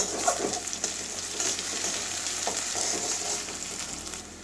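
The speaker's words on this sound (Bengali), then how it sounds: "ভালো করে ভেজে নেব একটু কাঁচা গন্ধ যাওয়া পর্যন্ত মশলা" Spice paste frying in a pan for an okra dish, a continuous close sizzle with light stirring and scraping, no voices.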